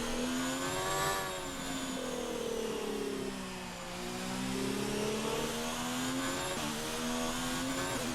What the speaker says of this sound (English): Yeah, not quite full throttle through here.